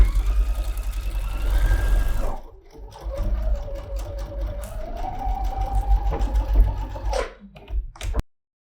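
A sewing machine stitches a pajama top's back yoke at a 5/8 seam, running in a couple of steady stretches with a brief pause between, close and moderately loud, with a low motor hum beneath.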